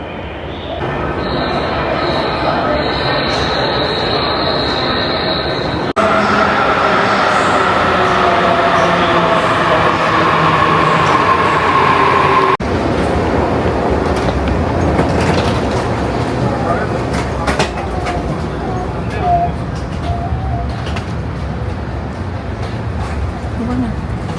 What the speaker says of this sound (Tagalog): So, nakasakay na kami dito sa Narita Express.